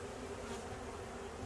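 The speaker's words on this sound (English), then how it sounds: "the bees will come out through the front entrance, come to this hive" Honey bees swarm around a hive entrance while being added to a new hive, giving a steady, dense droning buzz with a faint tonal hum, close and continuous for a brief moment without any talking.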